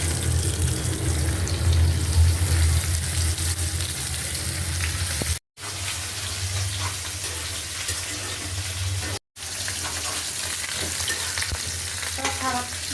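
Pomfret fish frying in mustard oil in a pan, a loud steady sizzle with crackling throughout, briefly cut off twice before resuming.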